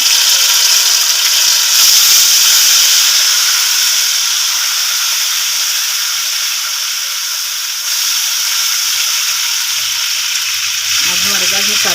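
Garlic fries in a pan for masoor masala, a loud, close, continuous sizzle and hiss that holds steady throughout, with a soft stirring scrape near the end.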